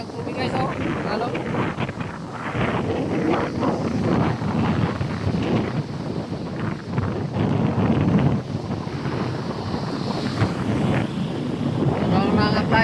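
Big waves surge and crash at a beach, a continuous rough roar of surf mixed with heavy wind buffeting the microphone, while someone talks over it throughout.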